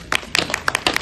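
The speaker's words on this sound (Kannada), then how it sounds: "ಒಂದು ಚಪ್ಪಾಳೆ ಕೊಡಿ" A small apartment audience claps during a Kannada Rajyotsava celebration quiz, with a few short, uneven bursts of hand claps that are fairly close and loud.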